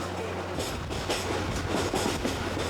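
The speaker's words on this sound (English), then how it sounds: "the train continues to follow the course of the Rio Septentrion" A train running on rails through Copper Canyon along the Rio Septentrion, steady rumbling roll with rhythmic clickety-clack of wheels over rail joints, loud and continuous throughout.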